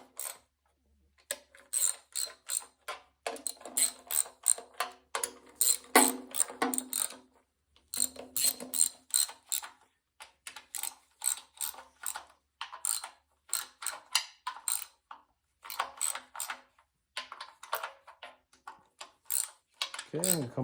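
Socket wrench ratcheting on the oil pan bolts of a 440 Mopar V8 during an engine rebuild, rapid clicking bursts repeated in runs, close and fairly quiet, with pauses between turns and no talking.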